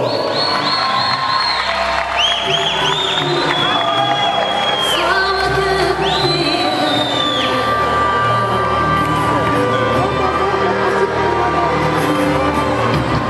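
Crowd at a beauty pageant crowning a new Miss Gosier, applauding, cheering and whooping loudly and continuously, with shouts and an amplified voice rising over the noise.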